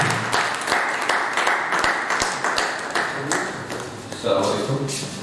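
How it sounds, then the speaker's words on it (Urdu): Audience applause at a book launch ceremony in Urdu, dense rapid clapping sustained throughout, with some voices and sharp taps mixed in. "آپ کی بھرپور تالیوں میں"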